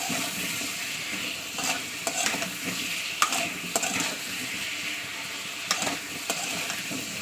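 Pumpkin and potato cubes seasoned with salt and turmeric sizzle in hot oil, a constant crackle under irregular spatula scrapes and clinks against the pan, close up and without voices.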